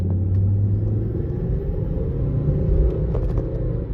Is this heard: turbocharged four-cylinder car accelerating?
yes